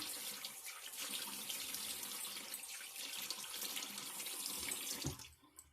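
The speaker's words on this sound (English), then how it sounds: "let me rinse with cold water" A cold-water tap runs steadily into a sink for rinsing after a shave, water splashing continuously for several seconds before it shuts off abruptly.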